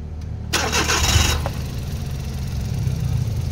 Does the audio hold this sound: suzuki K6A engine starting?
yes